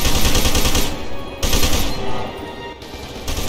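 Loud, close automatic gunfire in the video game F.E.A.R. 2 Project Origin, dense rapid bursts that stop briefly twice and then resume, almost no talk.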